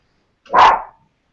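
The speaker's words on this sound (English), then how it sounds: "There goes Ted, killer attack dog." One loud, close bark from a dog, a single sharp burst standing alone against silence.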